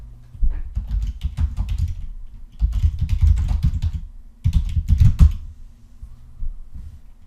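Bursts of computer keyboard typing while a name is entered during app registration in a cloud directory portal, three clusters of rapid key clicks separated by short pauses, close and clear with no speech.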